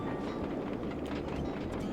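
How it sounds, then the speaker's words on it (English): Moving train in the video game Sly 2, heard as a steady, dense rumble with faint rhythmic clacking throughout. "At least I'm on top of the train this time."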